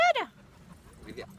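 A dog on a sandy beach lets out a brief, high, close whimper at the very start. A faint, softer whine follows amid quiet background.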